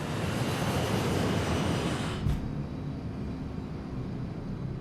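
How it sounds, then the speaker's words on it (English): A test plane takes off along a long runway, a loud, steady, rushing engine roar that eases slightly after a brief bump midway, continuing as a broad rumble, with no voices. "The test plane lifts off easily, using just a quarter of the long runway."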